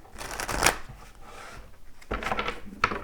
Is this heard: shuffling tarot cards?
yes